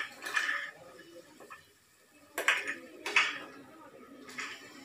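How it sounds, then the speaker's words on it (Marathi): Peeled Konkani field beans (val) are stirred and tossed with softened tomato and oil in a pan for a pulao, giving scraping, clinking bursts of a spatula against the metal pan separated by quieter pauses, close and moderately loud. "आणि आता बिरडा पण छानपैकी परतून घेऊया."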